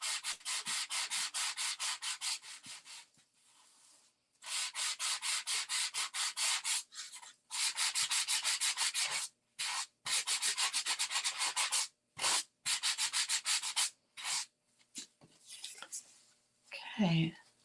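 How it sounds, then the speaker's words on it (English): Dry rubbing of sandpaper along the outer edge of a die-cut paper frame, in steady bursts of back-and-forth strokes separated by short pauses, close and fairly quiet. "this will sand off pretty easy"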